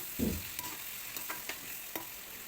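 Onion, curry leaves and tomato sizzle quietly in a hot pan, a steady low frying hiss with a few soft stirring clicks.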